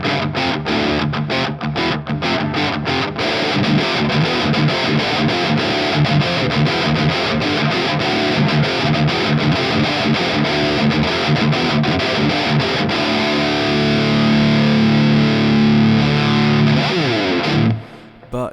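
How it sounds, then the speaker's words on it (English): Heavily distorted metal guitar played through a Dark Triad preamp boost pedal with boosted bass and treble and scooped mids, loud and aggressive with fast chugging riffs that build into sustained ringing chords before stopping abruptly. "It makes for a really aggressive and sinful metal tone, and that sounds like this."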